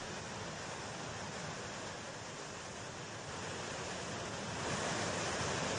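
Swollen Ganga river in flood at Rishikesh after heavy rainfall, a continuous broad roar of rushing water, steady and fairly distant, swelling slightly near the end, with no talking.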